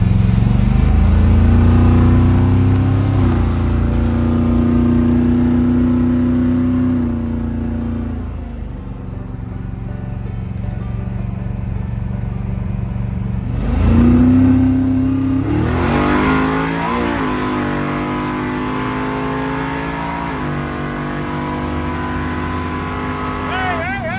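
Chevrolet Malibu on a test drive after fuel system repair, engine droning loudly and climbing through revs, easing off mid-run then accelerating hard again, with talk from inside the car.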